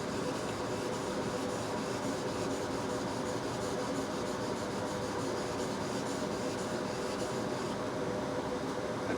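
A steel chisel rubs back and forth on a Norton waterstone in a continuous, even gritty scraping, close and moderately loud with no talk.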